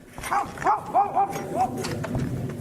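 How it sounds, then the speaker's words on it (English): A dog barks several times in quick, excited bursts nearby, with some background noise. "he hears his dog barking like crazy"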